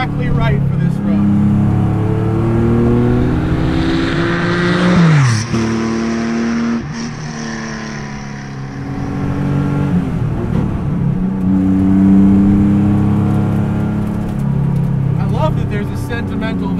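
A 1970 Porsche 911, raced in period and now rat-rodded, pulls hard in second gear on a winding road, its engine note rising and falling through several throttle swells, loud and close with occasional shifts.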